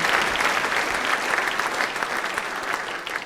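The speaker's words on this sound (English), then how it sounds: "I think he deserves another round of applause." Club crowd at the 1994 Adelaide Crows Club Champion event breaks into steady, dense applause, loud and sustained throughout, with no voices standing out.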